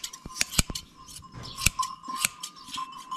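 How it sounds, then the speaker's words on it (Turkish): A new pair of scissors that cuts poorly clips in close, sharp metallic snips, landing as irregular clicks, some single and some in quick pairs, over quiet background with no talking. "Yeni makas kesmiyor ya."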